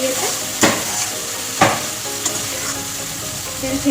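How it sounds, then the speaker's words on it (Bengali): Fish spice paste fries in hot oil with a loud, steady sizzle, punctuated by a couple of sharp scraping stirs against the pan, close up with no talking. "ভালো করে মাছের মশলাটা কষিয়ে নিয়েছি ভালো করে"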